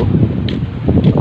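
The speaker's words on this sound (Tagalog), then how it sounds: "Ah, mahangin." Wind buffeting a microphone at a fishing area by Hervey Bay, a continuous low, loud rumble with gusty swells across the short stretch.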